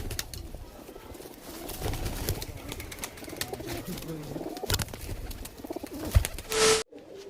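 Teddy pigeons in a loft, repeated low cooing and bird calls close by over a busy background, ending with a short sharp noise.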